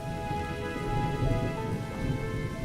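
Steady heavy rain pours over a village in a cartoon, with a low rumble of thunder rolling beneath the constant hiss.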